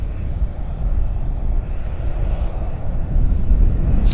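A United Airlines airliner arriving after a flight from Dulles Airport, a low, distant engine rumble that grows a little louder toward the end.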